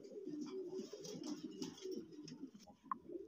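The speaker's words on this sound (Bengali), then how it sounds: "এখানে এক জোড়া বন্টিনেট কবুতর আছে, খুবই সুন্দর" A pair of fancy pigeons cooing softly at a farm, low rolling coos repeating close by, with a brief higher chirp near the end.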